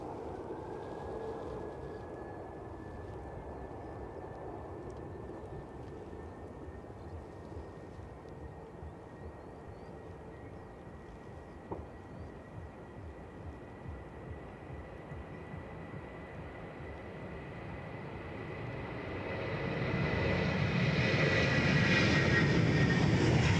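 A British Airways airliner rolling for takeoff at Edinburgh, a faint distant engine drone with a thin whine that builds sharply into a loud broadband roar near the end, without speech.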